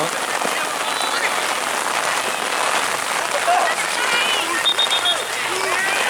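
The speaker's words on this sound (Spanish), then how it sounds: "estoy afuera, estoy viendo la lluvia también" Heavy rain falls outside in a dense, constant hiss of drops striking surfaces, steady and loud across the whole stretch.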